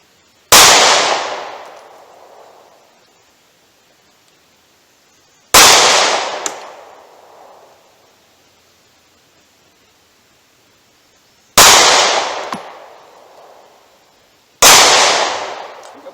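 Handgun shots in 9mm, .38 Special, .45 ACP and .357 Magnum fired at an outdoor range toward a target 70 yards off, four loud sharp reports spaced several seconds apart, each trailing off in a long echo, with silence between.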